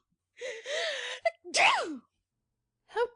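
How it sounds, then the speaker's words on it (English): A performer voices a duchess's gasp and a tremendous sneeze, a rising breathy intake followed by a sharp, loud achoo, then a brief vocal sound after a pause, close and clear. "Duchess gasps and gives a tremendous sneeze."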